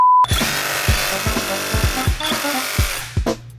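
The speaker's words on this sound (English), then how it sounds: "I'm gonna use my little drill right here." A small handheld power drill whirs into a donut, a close, loud buzzing motor with repeated short bursts and stops as it bites into the soft pastry.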